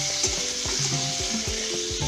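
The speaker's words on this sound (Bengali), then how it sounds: "আলুটা আমি ভাজা ভাজা করছি" Potatoes seasoned with turmeric and salt frying in hot oil in a kadai, a continuous close sizzle with rhythmic stirring scrapes throughout.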